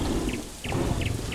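Steady rain pours down in the Path of Titans video game, a dense, even hiss of falling water with a few faint, brief high chimes over it.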